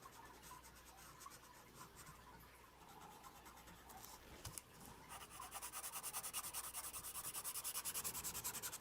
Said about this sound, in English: I'm only shading in the negative space, which is going to be the stuff that I cut out